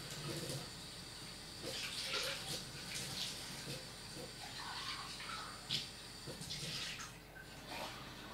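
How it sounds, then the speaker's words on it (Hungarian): Warm water runs from a tap into a glass in a room, a soft steady splashing stream with small clinks and drips, quiet and close, with someone speaking briefly over it. "Sikerült egy pohár meleg vizet töltenem magamnak"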